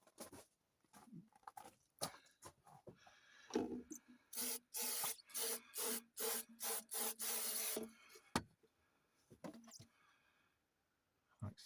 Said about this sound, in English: What I'm going to do first is clean up the rubber seal, so I get a nice fit.